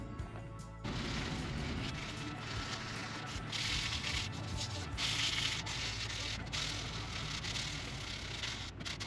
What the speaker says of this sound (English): I've just got to rub the pencil marks off around the edges of it with some sandpaper